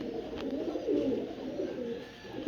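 A pigeon coos softly in low, rolling murmurs that continue through the moment, fairly close, with a faint background hiss and no voices.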